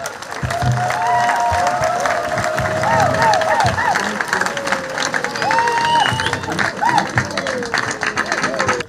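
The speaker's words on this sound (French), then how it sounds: "L'Assemblée acclame le Seigneur." A congregation at a church service claps steadily and acclaims, with sustained crowd applause mixed with raised, wavering voices and ululating cries throughout.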